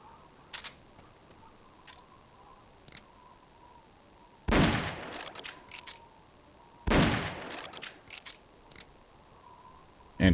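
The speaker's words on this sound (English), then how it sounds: "I don't think they can hear your gunshots, but they do react to being shot." Gunfire in the Metal Gear Solid Peace Walker video game: two loud, short bursts of shots a couple of seconds apart, with scattered faint clicks and thumps between, no speech.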